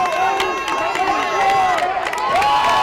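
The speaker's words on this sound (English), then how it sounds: "Now you hear the crowd getting into it now." Crowd at a football game cheering and shouting loudly, with rising and falling yells over a steady roar, voices close and excited throughout.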